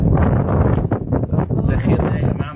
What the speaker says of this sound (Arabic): صوت الهوا ما شاء الله